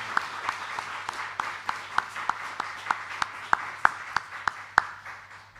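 A church congregation at a pastor's retirement service gives light, sparse applause, a few distinct hand claps spaced through the quiet room over a low steady hum, fairly faint and distant.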